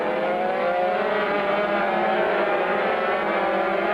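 Racing motorcycles at the 1993 Sunflower Trophy scream down the straight at about 135 mph, a loud, steady, continuous engine roar with no pauses throughout.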